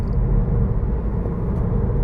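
Car overtaking on the road, a steady loud low roar of traffic rushing close by, with no voices.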